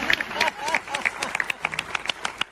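Audience applause at a Hindi stand-up comedy show, scattered claps mixed with crowd murmur and a voice, moderately loud and uneven.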